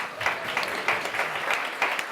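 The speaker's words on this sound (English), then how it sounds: "Let's give Rupa a round of applause" Brief, fairly quiet round of applause from a small audience at the close of a founders' talk show, with sparse, uneven claps lasting around two seconds.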